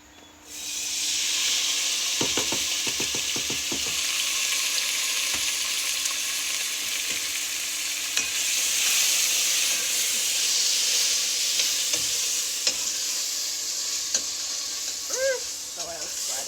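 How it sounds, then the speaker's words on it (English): Oil splattering loudly in a pan while pumpkin rice with broad beans and bully beef fries, a continuous intense sizzle and crackle with scattered pops and a few clicks of utensils, close up. "The oil's splattering."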